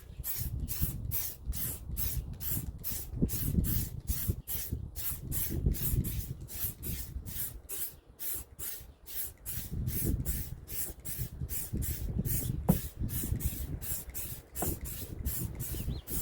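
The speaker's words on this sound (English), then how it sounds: "I love the nozzle on this can sprays really well, so we're just going to go nice little bits here." Black spray paint hisses from an aerosol can onto the back hatch of a 1996 Geo Tracker in a long series of short, rhythmic bursts, close and steady, with no voices.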